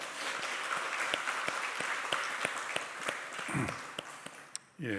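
A church congregation claps together during a Sunday worship service, a steady wash of many hands at moderate distance that fades out near the end, with no talk over it.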